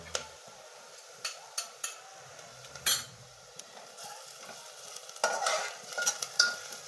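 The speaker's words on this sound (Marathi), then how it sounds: "लसणाची पेस्ट केली ना ते टाकून घेऊया म्हणजे कांद्या संघ असे भाजून निघल" Onion frying with garlic paste in a pan for pav bhaji, stirred with a utensil, giving soft sizzling and scraping with several sharp metallic clinks and taps close by.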